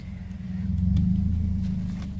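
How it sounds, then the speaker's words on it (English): A car pulls into a home garage, its engine a close, low rumble that swells and then holds steady for about two seconds with no voices. "you're going to hear a loud noise with the car coming in the garage"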